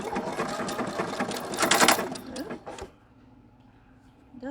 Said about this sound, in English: So I'm going to stitch.